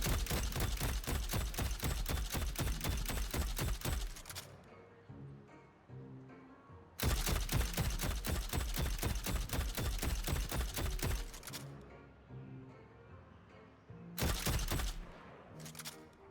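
Warden's gun in the video game Deadlock, fired in three rapid automatic bursts of evenly spaced loud shots, with short quieter pauses between bursts.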